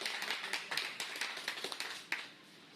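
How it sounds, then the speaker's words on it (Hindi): An audience at an RCM business-plan meeting claps in a quick, steady patter of overlapping handclaps that stays fairly soft and distant, then trails off. "एक बार जोरदार तालियां बजा दीजिए भैया"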